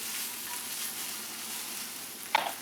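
Vegetables sautéing in oil in a pan for a Korean recipe, a steady soft sizzle throughout with a brief utensil clink near the end.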